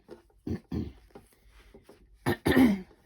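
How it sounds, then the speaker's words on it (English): A few short throat-clearing grunts, close and raspy, ending in a louder harsh clearing. "Sorry, keep having to clear my throat."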